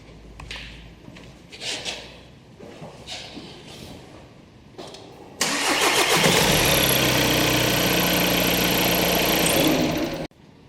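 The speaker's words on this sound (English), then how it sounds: "let's check the timing again when the engine starts right up" A VW Golf 2.0 TDI EA288 diesel engine with a long-crank fault cranks and catches, then runs at a steady loud idle for several seconds before cutting off abruptly, preceded by faint intermittent rumbling.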